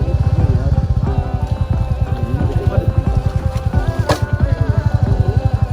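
A heavy single-cylinder Bullet motorcycle engine thumps in a steady, rapid beat close by, running continuously throughout on a downhill road.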